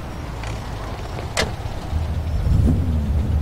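Car engine in the Mafia 2 video game, rising into a steady low rumble near the end after a brief door-like thud, with no talk over it.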